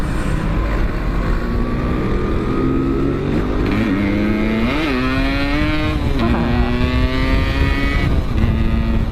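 A Suzuki Shogun motorcycle pulls hard in third gear, its engine note climbing steadily with a couple of brief dips, loud and close throughout with no talk.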